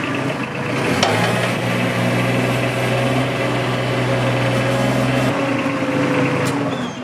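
A Bobcat MT100 mini track loader's engine runs steadily and close by at a loud, constant idle with a deep low hum, with no talk over it.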